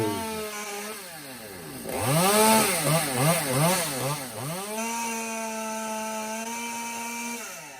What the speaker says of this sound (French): tu vas entendre des bruits de tronçonneuse